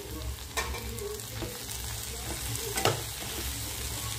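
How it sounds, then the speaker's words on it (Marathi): Okra bhaji with tomato being stirred in a pan, soft spatula scrapes and occasional knocks over a low, steady frying hiss, fairly quiet and close, with nobody speaking. "भेंडी छान मिक्स करून घ्यायची"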